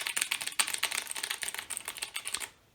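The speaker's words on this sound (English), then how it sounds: "what is not to like about how loud that keyboard is?" Rapid typing on a loud mechanical keyboard, dense crisp clicky keystrokes in a quick irregular rhythm, close and alone, stopping abruptly at the end.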